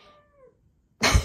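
A house cat lets out a drawn-out meow that fades at the end, followed after a pause by a loud, close thump or rustle.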